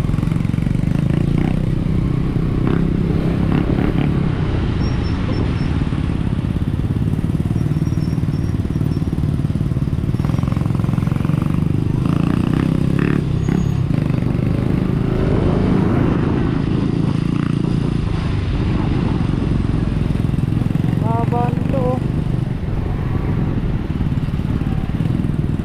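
Motorcycle engines rumble and putter continuously in traffic, a steady low drone with occasional revving and clatter, no talking.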